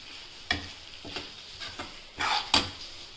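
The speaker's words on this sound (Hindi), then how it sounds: "इसमें आंच में पका लेंगे बैंगन को।" Eggplant cooks in masala in a pan over a flame, with several sharp scrapes and clatters of a spoon stirring against the pan over a soft steady sizzle, heard close and without talk.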